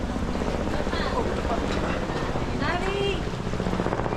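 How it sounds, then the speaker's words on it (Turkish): Helicopters fly over Iguazu Falls in Argentina, a steady broadband roar with wind buffeting, while voices talk over it. "helikopterler de geziyor"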